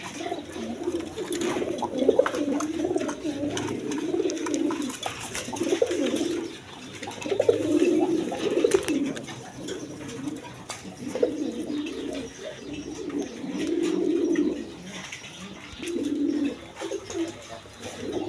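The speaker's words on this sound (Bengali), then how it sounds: "এখানে এক পেয়ার ফিল্ডব্যাক কবুতর আছে, দেখেন কোয়ালিটি সম্পন্ন কবুতর" A pair of fieldback pigeons coos steadily and fairly close, soft repeated rolling coos overlapping throughout with no voices.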